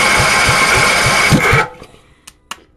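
A small engine on a cold start runs loud and close with a rapid, uneven chugging pulse, then cuts out abruptly, leaving a few sharp clanks and knocks as it dies away.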